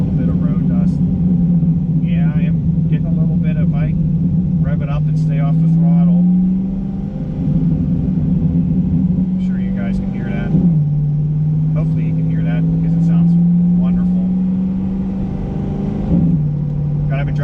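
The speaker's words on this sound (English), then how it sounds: "I'm gonna keep the revs up just because it sounds so good" A C8 Corvette engine with a Borla ATAK exhaust drones steadily and rises into a few revs, with talking going on over the constant motor noise throughout.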